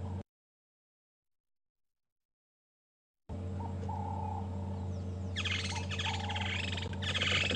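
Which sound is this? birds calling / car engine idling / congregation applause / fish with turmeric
birds calling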